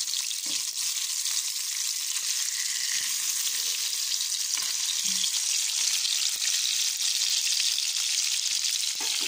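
Fish frying in a pan with a steady, loud sizzle that holds for the whole stretch, broken by a few soft clinks from stirring or turning and with no talk over it.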